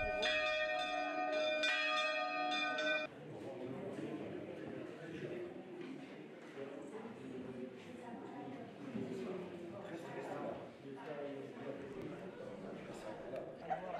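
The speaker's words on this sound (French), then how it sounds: "Les cloches sonnent le début de la messe." Church bells ring clearly for a few seconds to mark the start of mass, then fade beneath a murmuring crowd and ambient chatter, with distant tolling faintly persisting.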